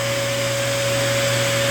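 A hair blow dryer roars loud and steady at close range while drying and brushing a dog's curly coat, with a constant airy whoosh and a sharp tonal whine and no talking.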